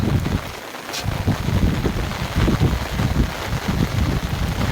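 Light outdoor rain patters in a continuous, fairly loud hiss, with a slight breeze stirring and no one speaking.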